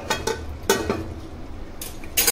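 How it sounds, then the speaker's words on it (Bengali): A metal lid lifted off a pot of simmering Bengali chicken kosha cooked with yogurt, giving a few sharp metallic clinks and clatters, with a louder clank near the end. "এবার ঢাকনাটা উঠাচ্ছি, ঢাকা রাখা ছিল এতক্ষণে।"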